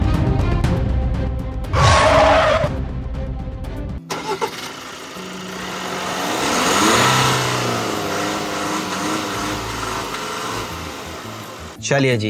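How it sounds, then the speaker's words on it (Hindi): MG Majestor SUV engine cranks over briefly, then settles and builds into a smooth, rising acceleration hum that swells and fades, with someone speaking over the start. "अब इनिशियल कार को मैं उठाना शुरू करता हूँ।"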